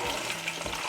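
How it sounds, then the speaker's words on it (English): Seer fish pieces coated with salt and turmeric fry in hot oil for a curry, giving a steady close sizzle and crackle that runs without a break. "That's why we are frying first"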